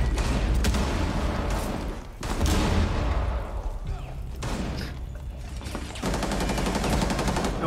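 Sustained gunfire in Rainbow Six Siege roars loud and dense almost without pause, with brief breaks between bursts and some heavier thuds mixed in, while no one speaks.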